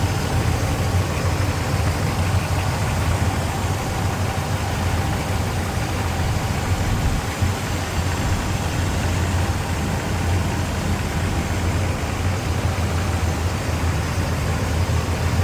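A 1967 Pontiac Catalina convertible's engine idles in a steady, smooth, dense rumble throughout with no talking.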